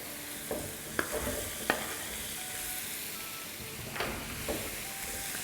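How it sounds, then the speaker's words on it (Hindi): Thick tomato slices for kebabs sizzle in a hot pan, with a steady hiss broken by a few sharp clinks and scrapes of stirring, close and moderately quiet, no voices. "साथ ही इसमें हम डालेंगे 2 टमाटर, जिसको मोटी मोटी स्लाइसेस में काट दिया है।"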